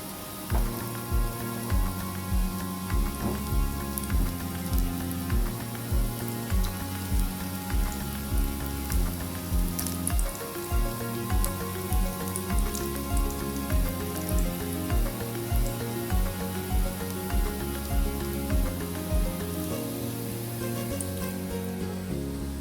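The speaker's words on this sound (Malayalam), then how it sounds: "ഞാനിതൊന്ന് എണ്ണയിൽ വറുത്ത് കോരട്ടെ" Taro (colocasia) snack pieces frying in hot oil, a steady rain-like sizzle that stays loud and even throughout with faint scraping ticks, no voices.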